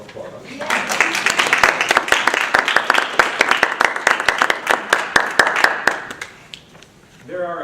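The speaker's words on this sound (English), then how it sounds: "we must give her a round of applause" Audience applause for a page turner at a performance, a sustained burst of dense, close clapping that fades out after several seconds.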